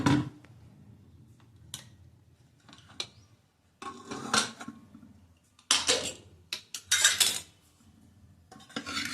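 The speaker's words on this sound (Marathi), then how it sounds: "आता आपण कुकरचं झाकण उघडणार आहोत. आता मी गॅसवरनं कुकर खाली घेते." A pressure cooker lid is worked open and the steel cooker is lifted off the gas stove, giving scattered close metallic clanks and scrapes separated by quiet pauses, with no talking.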